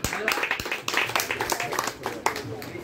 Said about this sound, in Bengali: একটা ছোট্ট করে হাততালি দিন।